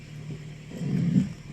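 A car engine, just repaired after an ECU fault, rumbles low during a road test drive, swelling briefly louder toward the middle before easing, fairly faint and with no talking.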